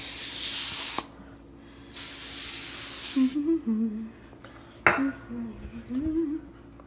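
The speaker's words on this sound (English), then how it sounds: "You can spray this so your dough doesn't stick." Two sharp bursts of cooking oil spray hiss close by onto a pan, each about a second long, followed by a person talking with a clink of cookware.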